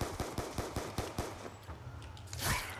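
Rapid bursts of video-game gunfire aimed at zombies in Black Ops 2 Buried solo mode, a run of sharp evenly spaced shots in the first half, then scattered fire and a louder blast near the end.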